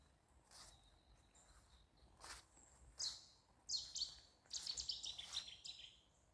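Faint birds chirp and trill in short bursts against a quiet outdoor background, the calls growing busier toward the end.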